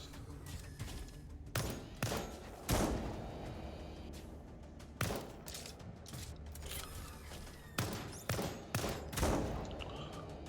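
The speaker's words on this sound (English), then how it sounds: "There are 2 shotgun turrets!" Shotgun turrets fire in the survival game Lost Skies, a series of sharp, loud individual blasts spaced a second or two apart, each followed by a short decay over a low background hum.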